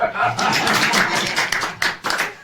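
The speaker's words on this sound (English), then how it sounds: "Clap for you." A few sharp hand claps ring out while someone cooks stew, mixed under close, lively talking voices and scattered through the moment rather than forming steady applause.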